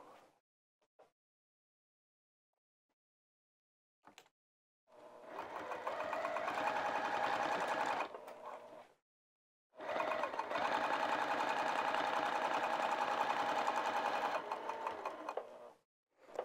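A sewing machine stitches through an interior vinyl pocket on a bag in two close, steady bursts of motor whir separated by brief pauses and small handling clicks, with no talking.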